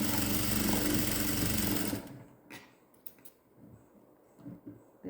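A sewing machine runs a fast, steady double stitch along a seam of a newborn baby's gown, loud and close for about two seconds before stopping, leaving quiet handling noises.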